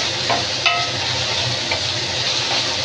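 Chopped onion frying in a pan with a little asafoetida, a dense continuous sizzle with a couple of faint stirring clinks, fairly close and steady.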